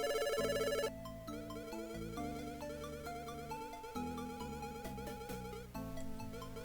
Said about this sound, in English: Then his phone rings a bit.